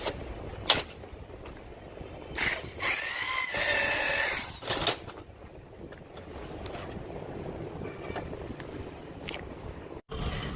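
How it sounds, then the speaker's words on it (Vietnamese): A power drill bores into a 16 mm thick steel plate clamped in place for marking holes, a steady whirring grind with a louder surge midway and intermittent sharp clicks and knocks. "Mình sẽ kẹp cố định nó vào và khoan để lấy dấu trước."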